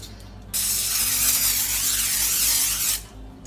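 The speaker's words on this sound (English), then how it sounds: "I'm just using this nonstick olive oil spray." A sustained hissing spray of nonstick olive oil cooking spray blasts for about two and a half seconds, close and steady, then cuts off abruptly.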